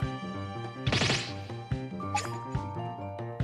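A teacup smashes in the video game Layton Brothers Mystery Room: one sudden bright crash about a second in, set against steady, rhythmic game music that keeps looping underneath.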